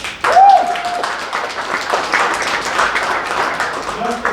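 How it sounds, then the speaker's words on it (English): Comedy club crowd applauding as a comic is welcomed to the stage, a sustained spread of clapping that rises suddenly and holds, with a voice and a brief tone heard over it. "Give a big round of applause for Chris Reddick."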